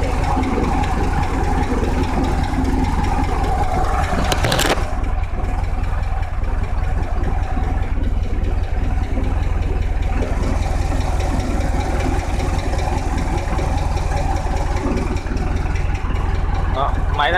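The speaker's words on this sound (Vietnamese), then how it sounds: "Đây là tiếng máy." The air-cooled engine of a Porsche 356 idles steadily and close, a constant low rumble with a brief sharp knock partway through, under occasional speech.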